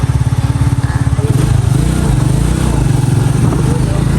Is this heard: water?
no